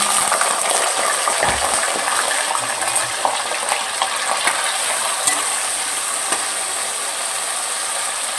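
Potatoes fry steadily in a pan for drumstick and potato curry, a continuous broadband sizzle with occasional small pops and scrapes, moderately loud and close, no voices.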